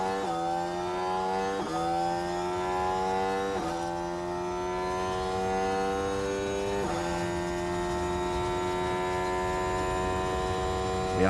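An F1 car on a flying lap around Sakhir in F1 Manager 24, its engine whining steadily upward through the revs, with abrupt pitch drops at each upshift, loud and continuous with no talk.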